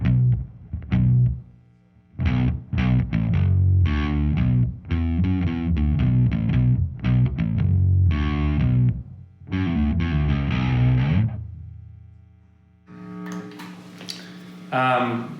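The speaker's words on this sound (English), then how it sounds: "Here's the same bass tone with my distortion." Distorted bass guitar playing a loud, continuous run of sustained notes and chords for most of the stretch, broken by brief gaps. A hissy, brighter burst of sound rises near the end.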